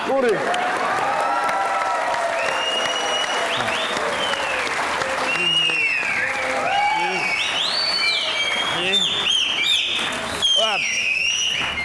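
A talk-show studio audience applauds a guest's entrance, broad clapping running throughout under loud sliding tonal sounds and voices.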